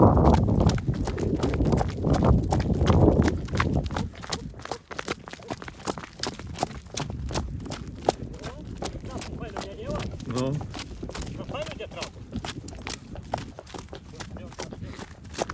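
Draft horses offered for sale, among them a mare, clip-clop with rapid, close hoof strikes on hard ground, the steps forming a steady walking rhythm while people talk and call out over them.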